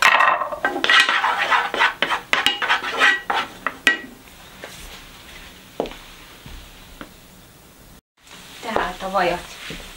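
Garlic in butter sizzles in a pan, with clinks and scrapes of a utensil against the pan at first, settling into a steady soft frying hiss.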